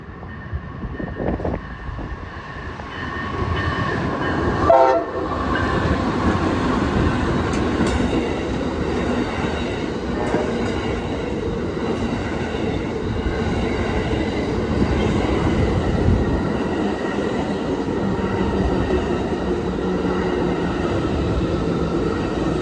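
An Amtrak passenger train rumbles past at close range, steady and loud, with rail clatter, brief wheel squeal and a horn-like tone early on; no voices.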